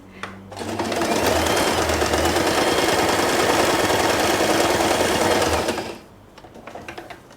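A sewing machine runs steadily for about five seconds, stitching the seam of a satin scrunchie, a loud continuous motor whir with rapid needle clatter, starting and stopping cleanly.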